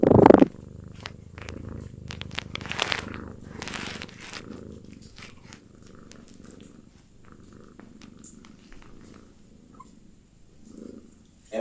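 A contented pet cat purrs steadily and close up in a quiet room, a soft continuous rumble with small rustles and clicks.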